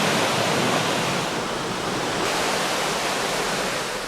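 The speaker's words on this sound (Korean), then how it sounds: "오로지 폭포 소리에 귀 기울여 마음 비워보는 시간." Steady broadband roar of a waterfall near a Korean mountain temple, loud and continuous with no breaks, close by and alone without any voices.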